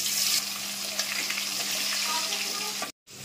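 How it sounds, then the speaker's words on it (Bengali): Turmeric-coated potatoes fry in a pan while a metal spatula stirs them, giving a steady, close sizzle with scraping strokes, then a brief dropout near the end. "আলু ভাজা হচ্ছে"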